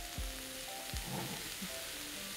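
Steak sizzling in melted butter on a hot plate in a steakhouse, a steady faint crackling hiss with a few soft pops.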